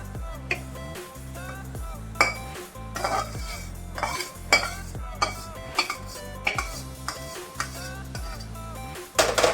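A metal spatula scrapes and clinks against a pan as a hot jaggery sweet mixture is pushed out onto a ghee-greased plate, with repeated scraping strokes and occasional sharp metallic taps over faint background music.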